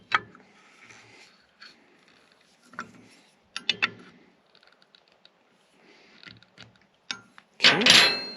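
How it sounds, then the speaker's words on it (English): Wrench clicks and light metallic ticks while a nut is tightened onto a rebuilt power steering fitting of a 1977 Ford Highboy, sparse and close, ending in a louder burst of scraping rattle. "we'll go ahead and tighten this nut up"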